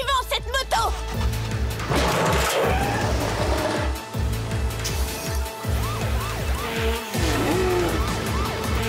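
A cartoon motorcycle chase in a LEGO Friends episode, with revving engines and skidding, squealing tires surging loudly and alone throughout.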